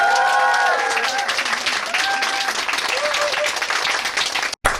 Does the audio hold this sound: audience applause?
yes